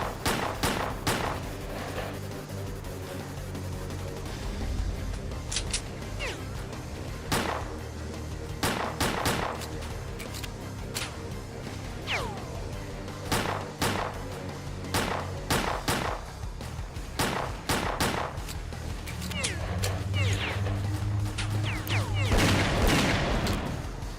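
Gunfire in the video game S.T.A.L.K.E.R.: Clear Sky: sharp single shots and rapid bursts crack repeatedly over a dense, rumbling ambient bed, loud and close, with a heavier low thump near the end.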